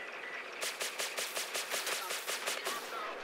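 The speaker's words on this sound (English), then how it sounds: "Let's just set off all the missiles." Missiles launch in rapid succession from the ANVL Gladiator bomber in a space combat game: a quick, evenly spaced string of about a dozen sharp bursts, moderately loud and without speech.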